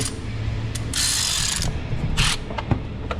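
A ratchet tightening a bolt near the alternator bracket on a Duramax engine, close metallic clicking in short bursts over a steady background hum.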